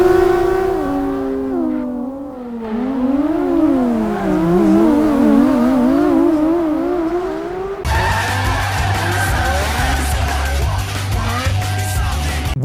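Drift car sliding on tarmac in a tandem drift, tires squealing in long wavering tones while the engine revs and surges, loud and close, with a harsher, throatier engine note taking over in the final seconds.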